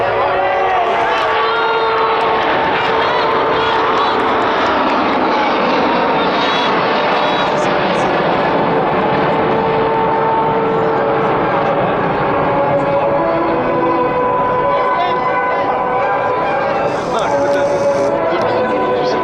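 An Airbus A380 takes off at the Paris Le Bourget air show in 2011. The loud, sustained jet roar builds and holds, with a crowd audible and a commentator talking over it.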